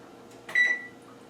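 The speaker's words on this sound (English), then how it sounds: "I'm going to preset the oven for 380 degrees" A single sharp electronic beep from an oven control panel as the temperature is set to 380 degrees, brief and fairly close in a quiet kitchen.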